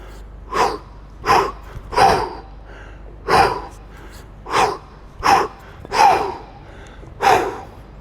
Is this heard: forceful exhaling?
yes